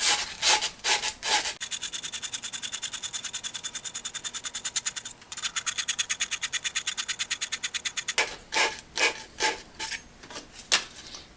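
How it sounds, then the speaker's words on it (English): Sandpaper rubbed briskly over the end of a copper pipe, fast regular scrubbing strokes running steadily, with short bursts before and after, close and fairly loud with no talking. "Now I'm going to take a bit of sandpaper and I'm going to shine up the end of the copper."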